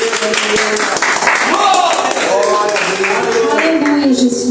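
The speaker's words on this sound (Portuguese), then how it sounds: "Aplauda o nome do Senhor" A church congregation applauds together, a dense patter of clapping mixed with voices calling out and singing, loud and close throughout.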